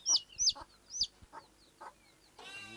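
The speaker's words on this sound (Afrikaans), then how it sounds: "Die wêreld, kyk net die kykens." Chicks cheep with high, thin peeps alongside soft clucking from nearby fowl. The calls are faint, spaced apart and close by, and there is no talking.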